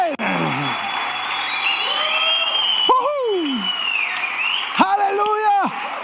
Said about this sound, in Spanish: Fuerte ese aplauso para el Rey